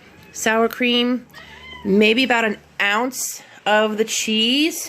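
A house cat meows repeatedly in drawn-out, rising calls, loud and close, alternating with a person talking about food preparation in a kitchen.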